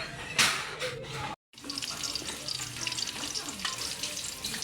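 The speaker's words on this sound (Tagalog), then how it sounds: "Nagigisa na ng labuyo at sibuyas." Chilies and onions sauté in a hot pan for a Filipino menudo dish, a steady sizzle with a sharp spatter near the start, a brief dropout, then continuous frying close by.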